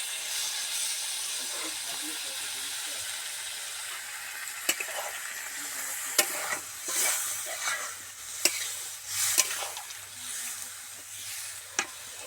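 Water goes into flat bean curry frying in oil, bringing a rising hiss and steamy sizzle with a few sharp utensil clicks against the pan, close and moderately loud with no talking.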